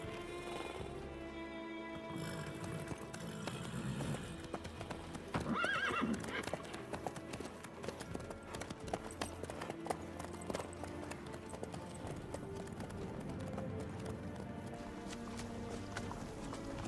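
Horse hooves clip-clop steadily in The Witcher 3, with a horse neighing partway through, all set against a continuous music score and ambient game sound.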